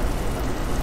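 Steady rain in American Truck Simulator, a dense even hiss of falling drops with no breaks, fairly loud and close across a brief moment.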